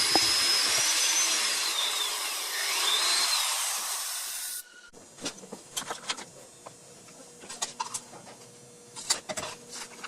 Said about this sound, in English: then we're going to use a 3/8 inch bit to get the hole to the right diameter